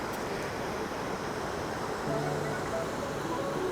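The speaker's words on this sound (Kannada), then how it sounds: "ಇದು ಡ್ಯಾಮ್, ನೀರು ಬಿಟ್ಟಿದ್ದಾರೆ ಅಂತ ನೋಡಿ." Water released from Sholayar dam rushes in a dense, steady roar, loud and unbroken all the way through. No voices are heard over it.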